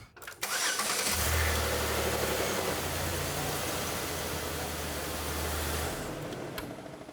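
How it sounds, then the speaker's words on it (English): A 2006-2016 Chevrolet Impala 3.5L V6 cranks and catches, then settles into a steady, close idle with a low droning hum and a broad hiss for several seconds before easing off. "what I'm going to do is start the car and let it run for about 40 seconds."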